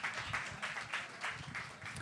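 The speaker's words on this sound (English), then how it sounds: "Round of applause for this fine gentleman right here." Audience applause for a guest at a live talk event in Austin, a steady broadband wash of many hands clapping at moderate level, continuous for about two seconds with no talk over it.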